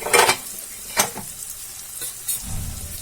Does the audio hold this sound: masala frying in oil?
yes